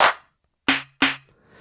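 Clap drum sample triggered on a pad in an iOS music app: three sharp, dry clap hits, the first alone and the last two close together, each with a short decay and a faint low tone.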